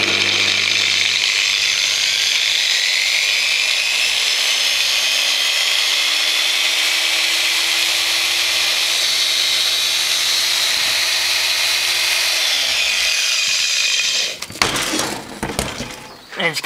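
A freshly regreased angle grinder runs steadily at high speed, a loud continuous whine with a slight pitch rise as it spins up, then cuts off near the end, leaving clattering handling noises.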